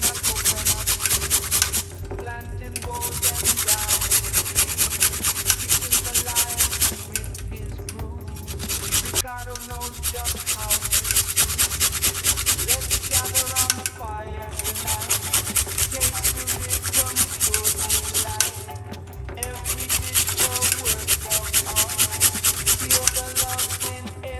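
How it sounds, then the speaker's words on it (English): A piece of ginger is grated in steady rhythmic strokes, a loud close rasping scrape repeating in bursts with a few brief pauses between runs. "we're not just gonna grate a piece of ginger"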